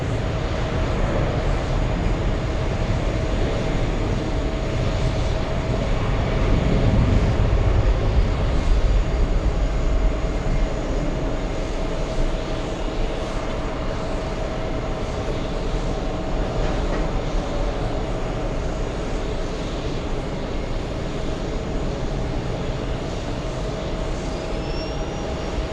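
Airliner jet engines at JFK airport give a loud, continuous roar and whine that holds steady for the whole stretch, with no voices.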